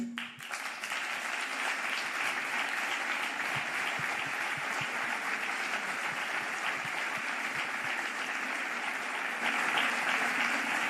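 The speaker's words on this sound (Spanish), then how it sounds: "Un fuerte aplauso." Sustained applause from an audience at an anniversary ceremony marking 125 years of a socialist federation in Llanera, steady and dense throughout, swelling slightly near the end.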